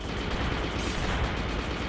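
Rapid gunfire from a small shooting helper in the video game Highway To The Moon, a dense, continuous burst of fast shots with booming low end, loud and steady throughout.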